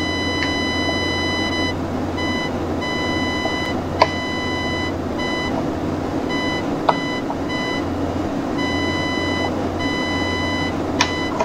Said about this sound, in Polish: To jest sygnał radiolatarni